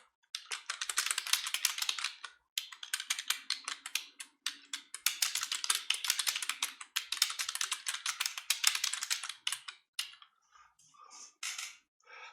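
Quick, steady clatter of fingers on a computer keyboard, heard close and alone, with bursts of keystrokes broken by short pauses and sparser taps toward the end.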